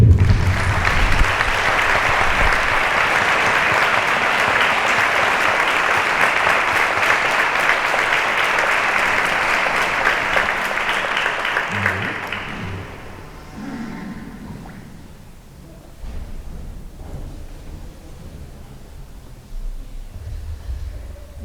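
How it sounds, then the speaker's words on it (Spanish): A conference audience in Utrera claps after a talk by a Salesian priest. Dense, steady applause fills the hall for about twelve seconds, then fades to scattered claps and quiet room noise. "El pueblo de Utrera también se merece un aplauso"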